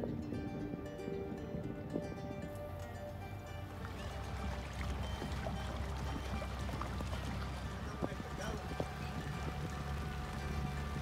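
Light rain patters steadily on water and the boat during a lagoon tour at Mandinga, a faint continuous hiss of drops with no clear voices.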